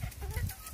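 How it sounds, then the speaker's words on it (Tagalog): Native chickens clucking close by, a few short throaty calls in quick succession. "Ayan ang aking mga alagang manok."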